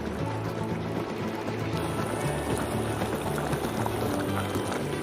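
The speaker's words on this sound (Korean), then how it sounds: "자, 수분이 많이 없어질 때까지 20분 정도 끓여주시면 됩니다" Tomato sauce simmers in a pot for a Chicago deep dish pizza, a continuous close bubbling and gurgling burble that stays even throughout with no talking.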